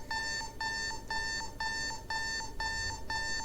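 An alarm clock in the video game DDLC Relapse beeps in seven evenly spaced bursts, each a clear bright electronic tone repeating in a steady rhythm, loud and close over a quiet background.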